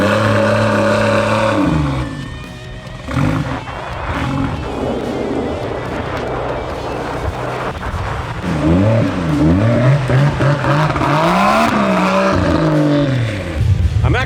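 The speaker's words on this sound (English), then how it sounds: "now it's time to take the Supra home, but let me remind you guys, it's basically on slicks and this is the road" A Fast & Furious tribute Toyota Supra on near-slick tires drives along an icy, snowy road. The engine roars loudly and steadily, with rising and falling revs and gear changes throughout.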